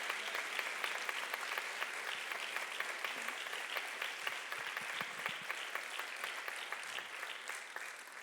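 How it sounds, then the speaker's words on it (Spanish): Sustained applause from a church congregation during a Christmas sermon, a dense continuous patter of many hands clapping at moderate volume, tapering slightly near the end without any voices on top. "Dé un aplauso al Señor."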